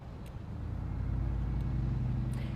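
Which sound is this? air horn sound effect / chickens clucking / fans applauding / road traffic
road traffic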